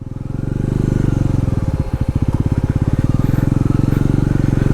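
A motorcycle ridden on a long trip from Khotang to Jhapa, its engine thrumming loud and close with a rapid, even low pulse that steadies after a brief dip, with no voices over it.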